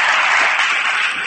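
Audience applause at a spiritual lecture on the Mokshamarg Prakashak in Udaipur: a short, dense burst of many hands clapping together, loud and steady, with no talk over it.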